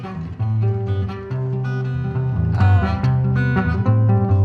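Melodic music imitates the bright, tuned tones of a balafon, with a layered run of notes and a steady low bass line that swells slightly midway, played continuously at close range with no talking.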